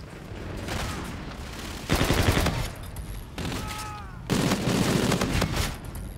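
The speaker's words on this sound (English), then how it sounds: "let's get a kill with this gun" Bursts of gunfire in a gun game mode of a first-person shooter video game, several rapid volleys of shots, loud and close, with brief pauses between them.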